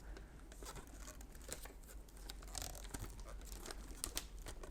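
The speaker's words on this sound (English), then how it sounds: "I can't unwrap it somehow." Plastic and cardboard packaging of a SteelSeries Arctis Pro Wireless gaming headset crinkles and tears as it is unwrapped, a close, steady rustle with sharper crackles and rips throughout.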